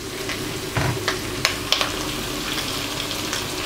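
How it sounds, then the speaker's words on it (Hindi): Onions sautéing in a pan give a continuous close sizzle and frying hiss, broken by a few sharp pops and stirring clicks, with no speech over it. "इसको तकरीबन 1 से 2 मिनट तक हम सौते करेंगे"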